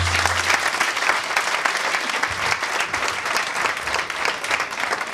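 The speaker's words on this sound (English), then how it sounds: "Give yourselves a round of applause" Dense, steady applause from an audience at a ballroom event, with sustained clapping and crowd noise filling the room throughout.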